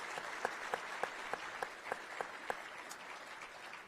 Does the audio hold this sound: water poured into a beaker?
no